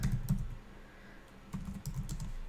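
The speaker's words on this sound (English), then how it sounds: "I am gonna type in Keller Williams" Someone types on a computer keyboard in quick, soft bursts of key taps, close up and fairly quiet with a short pause in the middle.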